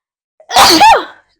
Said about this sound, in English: Goodness, 3 sneezes.